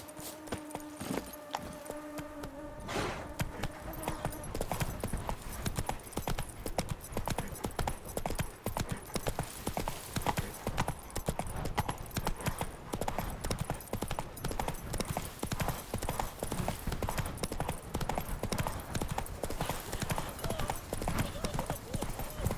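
Roach the horse gallops across The Witcher 3's terrain with a steady, rapid clip-clop of hooves, loud and continuous over game ambience, with a voice speaking briefly at the start.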